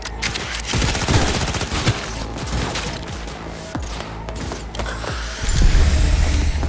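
Gunfire in the video game Cyberpunk 2077, dense bursts of automatic shots mixed with mechanical clatter, loud and continuous, swelling toward the end.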